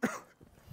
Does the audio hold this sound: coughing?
yes